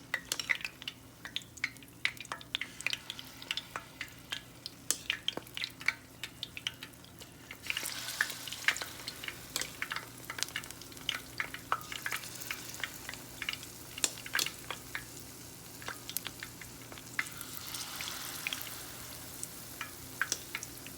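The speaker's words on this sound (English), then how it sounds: "our oil is hot. I'm gonna go ahead and start to spoon the batter in" Spoonfuls of banana fritter batter sizzle and crackle in hot oil, the frying growing louder and denser after the first several seconds, with occasional clinks of a spoon against the pan.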